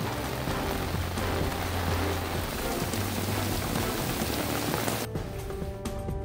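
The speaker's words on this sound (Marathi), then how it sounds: "यवतमाळ जिल्ह्यात विजांच्या कडकडाटासह जोरदार पाऊस" Heavy rain pours steadily on surfaces during a thunderstorm in Yavatmal district, a dense continuous hiss with low rumbling underneath, no voices.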